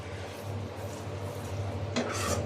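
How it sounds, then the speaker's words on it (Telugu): A mixture turning golden brown in a pan while a spoon stirs and scrapes it continuously, with a soft sizzle underneath and a brief louder scrape near the end, close and moderately loud, with no voices. "ఇలా కలుపుకుంటూనే ఉండాలి మొత్తం గోల్డెన్ బ్రౌన్ కలర్లోకి మారిందాక"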